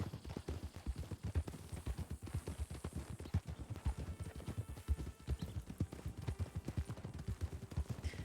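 Horse trotting in RedM, the Red Dead roleplay game, its hooves clopping in a quick, steady two-beat rhythm that runs throughout, close and moderately loud, with no talking.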